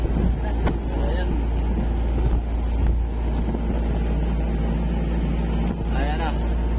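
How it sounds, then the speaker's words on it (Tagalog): A strong mountain wind roars steadily against the microphone as a low, continuous rumble, with voices speaking over it now and then. "Ang hangin nun, galing doon sa bundok."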